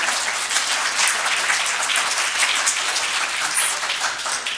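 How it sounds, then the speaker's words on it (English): Audience applause at a party leaders' event on women's economic issues, a steady wash of many hands clapping that stays loud and even for several seconds with no talk over it. "You can applause if you'd like to at this point."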